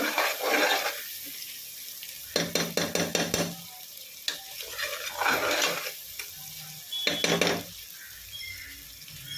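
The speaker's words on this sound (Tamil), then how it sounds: "அது இஞ்சி பூண்டு நல்லா வதங்கணும்." Ginger and garlic sautéing in a pan for a Diwali chicken biryani with basmati rice, bursts of sizzling broken by rapid metal spoon scrapes and clinks against the pan, close and busy, with no speech.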